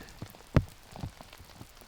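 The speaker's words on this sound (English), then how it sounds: "he's underneath the tree, so feeling the rain a little bit less at the moment." Rain falling on an outdoor disc golf course during a tournament round, heard as a soft steady patter with a few sharper drop hits, one especially distinct, with no voices.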